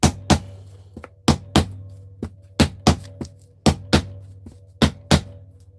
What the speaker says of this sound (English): You got to bang on the seal to break the seal.